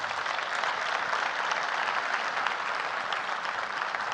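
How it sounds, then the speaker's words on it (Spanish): A conference audience at a school directors' congress in Panama applauds, with dense, steady clapping that runs evenly for several seconds and sounds a little distant. "les pido por favor un fuerte aplauso para Cristóbal."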